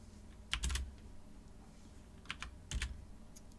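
Quiet bursts of computer keyboard typing at a desk during a game development session, two short clusters of rapid clicking keystrokes with brief pauses between, close by over faint background hum.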